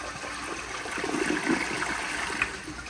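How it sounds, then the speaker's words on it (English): A 1978 yellow Kilgore Apex toilet flushes with a full tank, giving a steady close rush of gushing water for several seconds without speech. "So, obviously the tank is full, and here is a flush."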